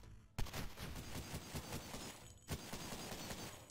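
Rapid gunfire from the retro horror shooter Cultic, a dense, loud stream of shots broken by a brief pause near the start and another midway, with no talking over it.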